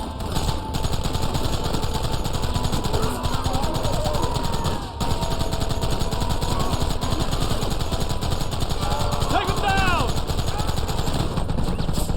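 Rapid gunfire in the Red Dead Redemption video game, with continuous machine-gun bursts and shots over a dense battle din, and voices shouting briefly among the shooting.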